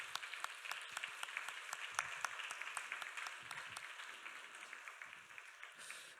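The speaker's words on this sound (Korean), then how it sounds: "먼저 환영의 박수 한번 드리겠습니다" Audience applause in a church welcoming four visiting missionaries who serve in Côte d'Ivoire: steady, dense clapping from a congregation, moderately loud and continuous throughout, with no talking over it.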